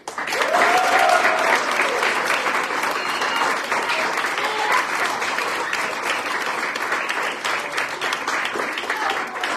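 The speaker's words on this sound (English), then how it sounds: "a big round of applause for the coach, Coach Chuck Latham" A council meeting audience gives a coach a warm round of applause: full, even clapping from a roomful of people, strongest at the start and holding steady, with a brief voice lifting above it early on.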